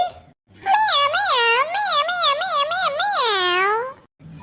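A high voice in a Tamil cartoon imitates a cat, producing a rapid string of wavering, sing-song meows that run together and end in a drawn-out cry.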